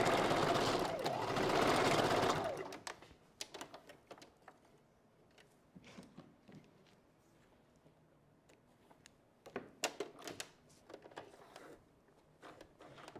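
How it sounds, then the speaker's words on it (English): A Janome Sewist 500 sewing machine stitching wig hair wefts: a loud continuous whir for about two seconds, then quieter scattered clicks and handling noises of fabric and hair. "That's, again, why I like this particular sewing machine. Again, it's the Janome Sewist 500."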